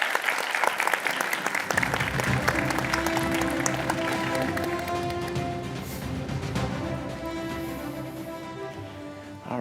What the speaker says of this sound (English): Please give a round of applause for our esteemed panelists.